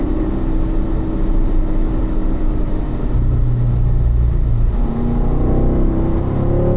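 A Corvette on a racing school track accelerates out of a turn, its engine roaring loud and close with a steady, rising drone and shifting harmonic tones.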